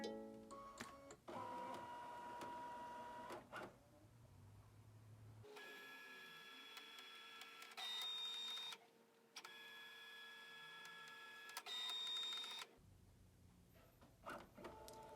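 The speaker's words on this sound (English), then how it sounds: "our machine is actually capturing an image of what's in our embroidery hoop" A quilting embroidery machine whirs and hums steadily while capturing an image of the fabric in its embroidery hoop, with motor drones starting and stopping in long blocks, close and fairly quiet.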